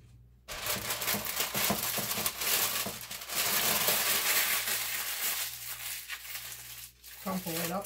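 Parchment paper crumpled by hand to line an 8x8 baking dish for candy, a dense crinkling and crushing that runs steadily at close range for several seconds, with a short soft break near the end.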